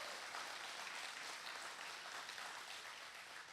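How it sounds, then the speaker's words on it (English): Faint, distant applause for participants at a drywall and floor covering professionals competition, a continuous even wash of clapping with no distinct voices. "Give yourself a round of applause"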